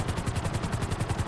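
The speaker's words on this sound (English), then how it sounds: "This is a fast helicopter." A fast helicopter in GTA Online beats its rotor with a rapid, even chop, steady and fairly loud, with no voices over it.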